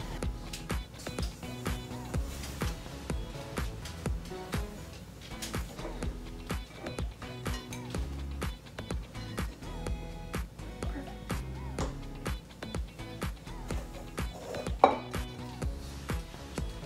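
Baking ingredients being mixed in a bowl, with a steady run of close clinks and scrapes of a utensil against the bowl, repeated in an uneven rhythm with quiet voices in the background.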